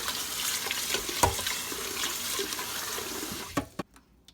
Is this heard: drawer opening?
no